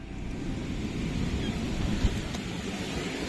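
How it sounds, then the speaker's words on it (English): Strong wind blows outdoors in a steady, low, rushing roar, buffeting the microphone at moderate level with a brief gust near the two-second mark and no one speaking. "it's so windy."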